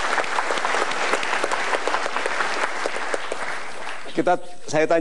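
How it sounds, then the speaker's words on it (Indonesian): A motivational seminar audience applauds with dense, steady clapping for several seconds, then it fades and a voice starts talking. "Kita berikan tepuk tangan."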